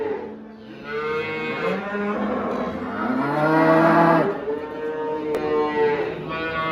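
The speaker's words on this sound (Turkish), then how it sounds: "Burada danasıyla birlikte yani kırma, cayse montafon karışım bir inek yavru var." A Montafon crossbreed cow with her calf moos at a village livestock market, one long, loud, drawn-out call with rising and falling pitch, close by and alone.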